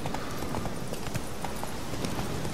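A horse trots along a road in The Witcher 3: Wild Hunt, its hooves clip-clopping in a quick, steady rhythm under a dense wash of ambient game sound.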